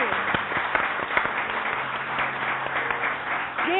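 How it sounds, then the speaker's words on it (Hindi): A studio audience at a Bahar festival morning show applauds in a steady, moderate wash of clapping, with a faint voice and low hum underneath. "बहुत सारी तालियां"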